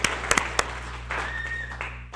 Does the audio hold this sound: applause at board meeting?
yes